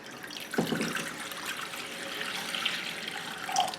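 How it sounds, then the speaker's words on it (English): Warm water is poured from a tap into a pan, a steady close splashing and trickle with a sharper gush at the start. "you may want to put some warm water into a pan."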